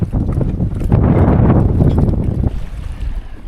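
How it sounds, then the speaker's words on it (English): Strong wind at Lagoon Beach on Norfolk Bay, Tasmania, buffeting the microphone in loud, rumbling gusts that surge and ease, dropping somewhat near the end. "Still very windy, or windy"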